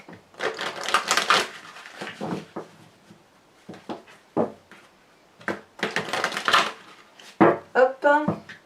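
Lenormand fortune-telling cards are shuffled and drawn in quick, crisp bursts of riffling and snapping close by, separated by short pauses, ending in a few sharp flicks.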